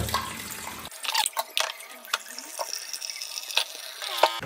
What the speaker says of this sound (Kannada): ಇದನ್ನು ತೆಗೆದ್ರೆ ಒಂಚೂರು ನೀರು ಹಾಕಬೇಕು